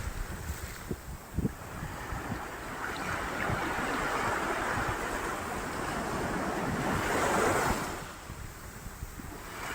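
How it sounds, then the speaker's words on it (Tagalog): Surf rolls onto Seven Commando Beach in El Nido, Palawan, a steady wash of breaking waves swelling and easing over several seconds, with gusty wind buffeting the microphone and a few soft thumps at the start. "tingnan niyo po ang napakagandang beach na ito, the Seven Command Beach"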